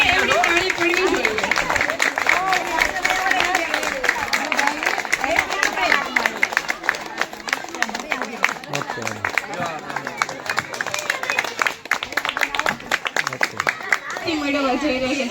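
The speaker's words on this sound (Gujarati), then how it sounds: "આપણે તાળીઓનો ગડગડાટ શરૂ રાખીશું." Sustained audience applause at a graduate certificate ceremony, steady dense clapping from a crowd that carries on without pause, with a voice speaking over it.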